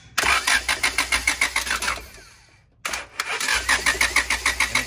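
A Honda B20 engine in an EF Civic cranks on its starter, loud and close, in two bursts of rapid rhythmic chugging split by a short pause, without catching.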